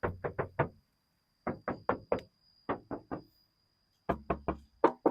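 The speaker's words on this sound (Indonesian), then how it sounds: "Ini saya deketin mic-nya ya, supaya kedengeran nih bunyi ketok-ketokannya." Close, crisp knocks on a thin metal body panel of a Honda Freed in quick groups of three or four, each tap ringing hollow, separated by short silences.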